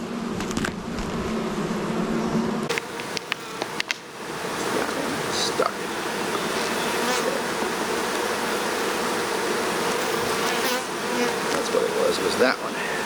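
Honey bees buzz around a top bar hive, a dense close droning hum that persists throughout, with faint handling knocks and rustles mixed in.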